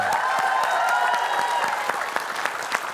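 Sustained applause from a television quiz-show audience, dense and steady, with a few sharper claps standing out toward the end.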